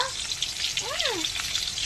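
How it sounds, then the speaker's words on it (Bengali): Pabda fish sizzle steadily in hot oil in a home kitchen pan, a continuous crackling fry heard up close and alone, with a brief rising-falling tonal squeak in the middle. "তার জন্যে দুটো কড়াইতে দিয়ে দিলাম একটা একটা করে ভাজছি"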